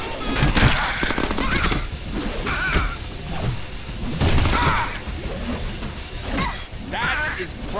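Shotgun blasts in the Deadpool video game on Xbox One: a busy, dense stretch of loud repeated gunfire and crashing impacts, with action effects layered throughout.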